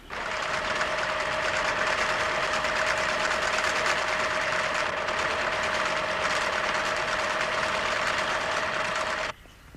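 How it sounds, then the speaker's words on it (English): A sewing machine runs steadily while stitching, a continuous loud mechanical whir with a fixed hum, holding even for about nine seconds before stopping abruptly. "Personally, I still find sewing machines quite magical, how effortlessly they work, producing such perfect stitches"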